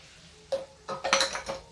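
Metal utensils clink and scrape against a pressure cooker as chili flakes are added to daliya masoor khichdi, a few short close knocks in quick succession, no talking.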